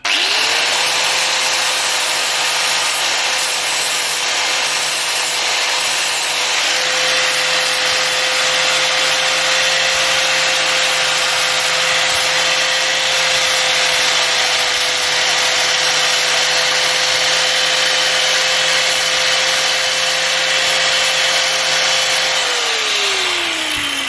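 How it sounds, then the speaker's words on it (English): An angle grinder cutting into the metal of a Ford Cortina, a loud, steady high-pitched whine with harsh abrasive rasp that holds for over twenty seconds, then winds down at the end. "Just grind a bit more off that actually."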